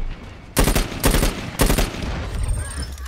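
Loud bursts of automatic gunfire from the online shooter Dirty Bomb on the Bridge map, two rapid volleys close together followed by a fading tail and softer game noise.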